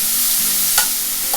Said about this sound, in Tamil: பொடியாக நறுக்குன வெங்காயத்தை அதில் போட்டுடலாம்.